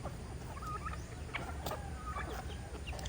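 Backyard pet chickens on a small farm that also keeps goats and sheep, giving a few short clucks and chirps over a steady low rumble of outdoor background noise, with no talking.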